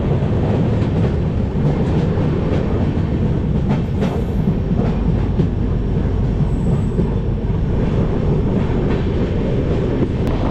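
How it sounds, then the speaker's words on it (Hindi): The Chhattisgarh Sampark Kranti Express rolls along at speed, a loud, continuous rumble of wagons with rhythmic wheel clatter and brief metallic squeals, heard from on board with no talk. "हमारी ट्रेन कैसे जा रही है सब लोग"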